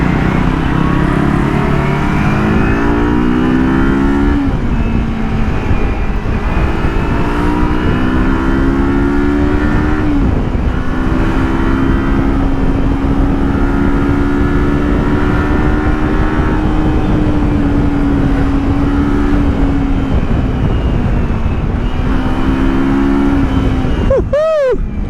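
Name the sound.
Kawasaki X 300 motorcycle riding, engine accelerating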